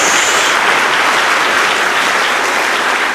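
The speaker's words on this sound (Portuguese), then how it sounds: "uma salva de palmas a Jesus" A church congregation claps for Jesus in steady, dense applause from many hands, loud and continuous throughout.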